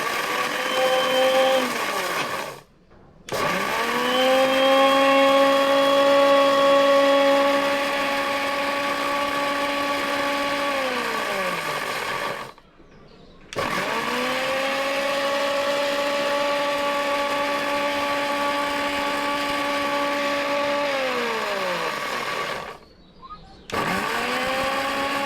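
A mixer grinder grinding chili, its motor whining loudly and steadily in three long runs, each broken by a brief pause before starting up again.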